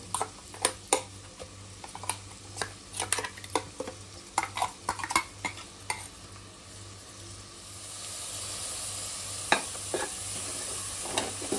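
Spice paste being stirred into a simmering drumstick and potato curry, with repeated soft scraping and clinking strokes of a spoon against the pot for about seven seconds, followed by a steady sizzle and a few more stirs.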